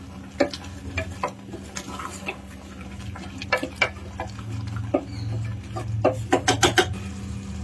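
A spoon stirs mutton curry masala for mutton kulambu in a sizzling pan, with repeated close scraping strokes and clacks, quicker toward the end, over a steady low frying sizzle and no speech.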